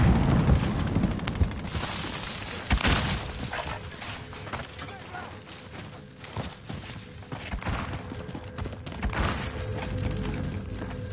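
Frag grenade blast in a Call of Duty match, a dense burst of booms and gunfire early on, followed by continued loud firefight noise with voices talking over it.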